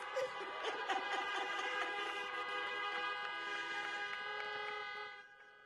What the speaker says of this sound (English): Can you honk for Alicia Keys?